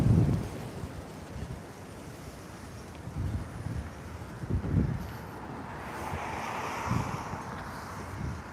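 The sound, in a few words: strong wind blowing outdoors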